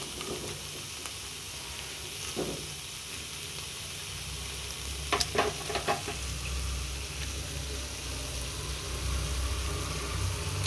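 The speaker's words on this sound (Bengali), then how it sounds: "আদা, কাঁচা লঙ্কা, জিরেটা দেওয়ার পর এখানে কলাইগুলো সেদ্ধ দিয়ে দিয়েছি তেলের মধ্যে" Boiled lentils sizzling in hot oil with ginger, green chili and cumin, a steady low frying hiss with a few brief utensil scrapes and taps partway through.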